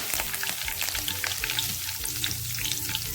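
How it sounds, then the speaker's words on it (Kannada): Mustard seeds spluttering in hot oil for Indian amla rice, a dense close sizzle peppered with rapid sharp pops and crackles scattered irregularly throughout, alone without talk. "ನನಗೆ ಸಾಸಿವೆ ಸಿಡಿಲಿ"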